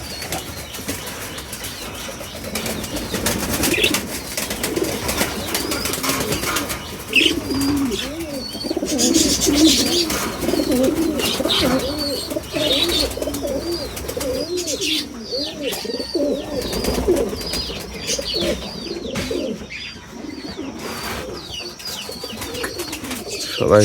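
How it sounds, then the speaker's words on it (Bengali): Pigeons in a loft in the morning, cooing in low rolling bursts with wing flaps and scuffling as they hop and move around, a steady busy flock sound with faint chirps over it. "সকাল সকাল সব কবুতর অনেক লাফালাফি ছোটাছুটি করতেছে"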